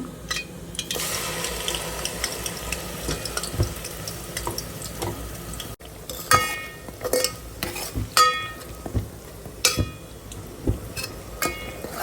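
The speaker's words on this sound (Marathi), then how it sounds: "हे मसाला आपण चांगला फ्राय करून घेऊया" Masala with onion frying in hot oil in a home kitchen, stirred: steady close sizzling throughout, broken in the second half by repeated scraping and knocking strokes of a spoon against the pan.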